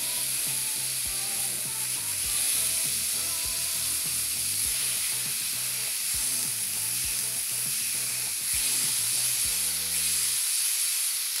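Steak searing in a very hot pan, giving a loud, continuous sizzle and hiss that lasts throughout, with a faint low mechanical ticking beneath it.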